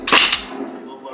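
A single sharp, close gunshot cracks from a virtual shooting simulator at a U.S. Army training session, a loud burst that rings out and fades within half a second.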